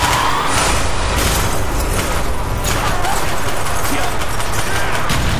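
Dense, continuous battle noise with booms and rapid gunfire-like bursts throughout, loud and unbroken, in a Call of Duty: Black Ops campaign scene.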